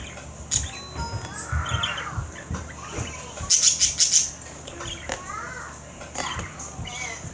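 Pet budgies chirp and tweet in bursts beside a caged pigeon, with a quick flurry of high chirps midway and brief wing flaps, while voices talk nearby.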